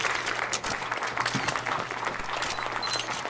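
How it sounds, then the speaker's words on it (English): Crowd applause at a fashion show in a Roblox video game, a dense, steady patter of clapping heard up close for a few seconds. "There's a lot of clapping and a lot of camera"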